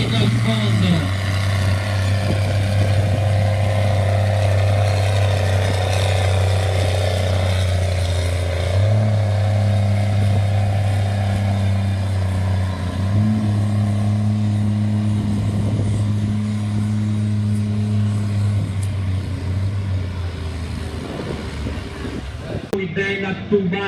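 A competition pulling tractor launching hard at a rainy outdoor tractor-pulling event in Riva presso Chieri, its engine roaring loud and continuous as the pitch steps up through the run, with a commentator's voice faintly beneath.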